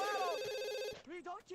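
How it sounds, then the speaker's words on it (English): A telephone rings in the game The Sims 2, an electronic warbling tone that stops partway as a voice starts talking over the end. "Answer the phone."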